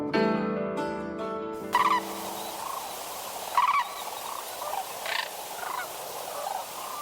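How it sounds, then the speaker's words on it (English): Sandhill cranes call in a few loud, rolling bursts spaced a couple of seconds apart, after a brief musical passage at the start, with quieter calls trailing off. "make a haunting sound when in flight"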